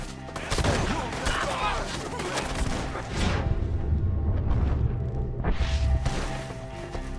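Sustained gunfire in the video game Red Dead Redemption 2, a dense fusillade of rapid overlapping shots and booms filling the whole stretch with a shouted voice among them.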